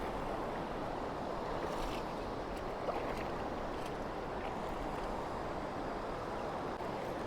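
A broad Nepali river crossed on foot during an island fishing trip, its water rushing in a steady, close, fairly loud wash with no pauses and no voices.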